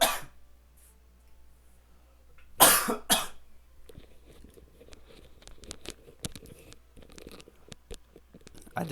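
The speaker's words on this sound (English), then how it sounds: "I have to cough, and I'm going to try not to in the mic" Two sharp coughs close by from a person sick with a cold, one after the other, then quiet with faint rustling and small clicks.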